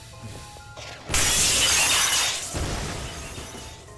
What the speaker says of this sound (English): that, like, sound of glass breaking was very loud